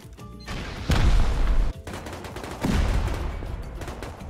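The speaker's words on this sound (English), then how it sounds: "I thinking I just C4 this wall." C4 explosives blasting a wall during a video game raid, two heavy booming bursts with rumbling decay, loud and close, separated by a brief gap.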